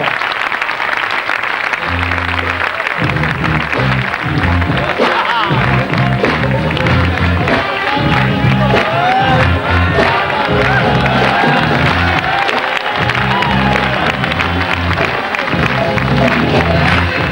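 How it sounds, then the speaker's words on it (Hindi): A large crowd at a cultural induction event welcomes comedian Johnny Lever with loud, sustained clapping and cheers, mixed with shouts and whoops over thumping stage music that keeps pulsing underneath. "सारे लोग एक साथ तालियों से स्वागत करिए जॉनी लीवर साहब का।"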